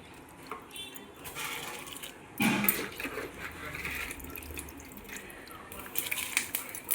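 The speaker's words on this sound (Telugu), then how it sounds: "నీళ్ళు మరుగుతున్నాయండి. మనం గంట ముందు నానబెట్టుకున్న బాస్మతి రైస్ ఇందులో వేసుకుందాము." Soaked basmati rice tipped into a pot of boiling water, heard as a brief splashing pour and clatter of the vessel partway through, over a low bubbling, close-up with no speech.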